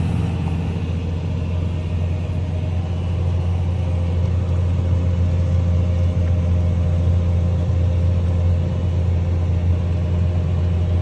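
Steady low rumble of a tractor engine running continuously while planting beans in a Minnesota no-till field, heard from the cab, loud and unbroken with no talking.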